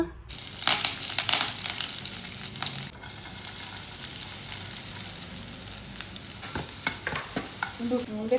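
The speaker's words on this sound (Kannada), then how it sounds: "ಒಂತೆ ಪೊರ್ತದು ಫ್ರೈ ಮಲ್ಪರೆ ಇತ್ತೆ ಪಾಪ್ಲೆಟ್ ಮಸಾಲ ಫ್ರೈ" Pomfret fish coated in masala frying in coconut oil in a home kitchen, giving a steady loud sizzle throughout with occasional sharper crackles and stirring clatters.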